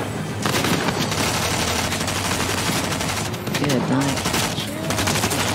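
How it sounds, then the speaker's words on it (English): SMG gunfire in the video game Fortnite, sustained rapid automatic shots over a steady loud background of game noise, with a short spoken line partway through. "These IO card SMGs shred."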